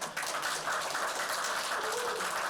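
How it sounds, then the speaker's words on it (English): Applause from an audience at a Chinese New Year celebration as the Nassau County Treasurer is welcomed, a steady dense wash of clapping held at an even level throughout with no voices rising above it. "Please give him a big round of applause."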